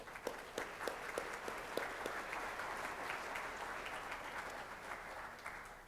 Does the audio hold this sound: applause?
yes